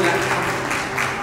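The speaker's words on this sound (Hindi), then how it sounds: "एक बार जोरदार तालियां उनके लिए भी हो जाए" An audience at an awards ceremony applauds with a dense, continuous wash of clapping at steady volume, with voices mixed in underneath.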